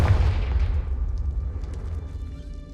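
A Confringo fire spell from the Hogwarts Legacy video game bursts in a loud, deep boom. Its rumble decays gradually over a few seconds, with no voices over it.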